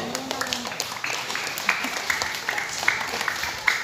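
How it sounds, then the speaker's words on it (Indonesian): Children clap during a school visit by an elementary class, scattered uneven claps that build into brief applause, with a voice speaking over it at the start. "Kasih tepuk tangan dulu dong."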